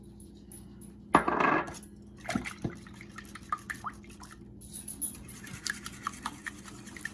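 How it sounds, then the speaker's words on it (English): Eight eggs being whisked with a cup of milk, salt and pepper in a bowl: quiet, quick, uneven clicking and tapping strokes close by, with no voices. "we're just going to whisk those until they are well combined and all the yolks are broken up"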